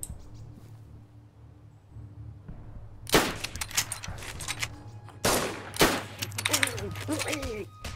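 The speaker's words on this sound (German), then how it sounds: "Schüsse. An der Tanke unten." Gunfire in the video game DayZ Standalone, at a gas station: sharp bursts of shots crack in quick clusters, some close and loud, over a low game ambience with a voice talking.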